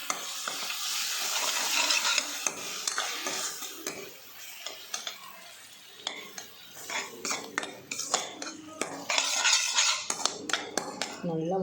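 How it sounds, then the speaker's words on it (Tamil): Ginger and tomato puree sauté in oil, with irregular metal spatula clinks and scrapes against the pan over a low sizzle, busier bursts of stirring coming and going. "நல்லா வதங்கி எண்ணெயெல்லாம் பிரிஞ்சு வர்ற அளவுக்கு வதங்கணுங்க"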